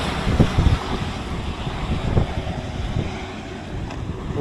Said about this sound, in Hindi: खतरनाक हवा चल रही है